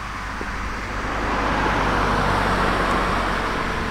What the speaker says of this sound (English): People riding the convertibles.